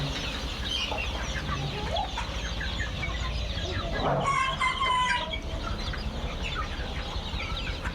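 Young roosters around forty days old cluck and chatter on a poultry farm, and one gives a clear crow midway through, moderately loud over a low farmyard background.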